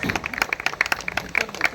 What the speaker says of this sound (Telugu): గట్టిగా చప్పట్లు ప్లీజ్